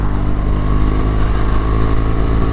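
A 2014 BMW R 1200 GS LC motorcycle being ridden, its steady engine drone and wind rush loud and continuous from the rider's position, with no talking.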